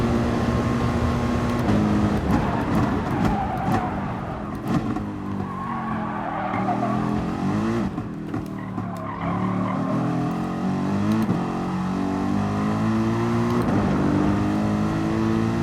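Racing car engines roar and rev continuously in Gran Turismo Sport races at the Nürburgring, with tires squealing and skidding throughout, like a steady stretch of loud motorsport action.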